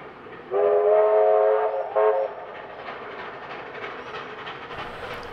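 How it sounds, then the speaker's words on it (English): Lachlan Valley Railway locomotive 3237 storms through Wambara on the south coast of New South Wales, sounding a loud, sustained chime horn twice in close succession, the second blast shorter, followed by the steady rumble of the passing train. "The loco is seen storming through Wambara heading its way to Scarbrough from Wollongong on Sunday, November 10th, 2019."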